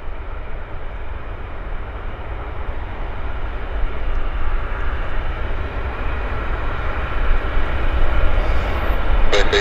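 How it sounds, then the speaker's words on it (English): A jet airliner on its takeoff roll at Vancouver Airport, a broad rumbling engine roar that builds steadily louder over several seconds, heard from a distance outdoors. "Nice takeoff roll though."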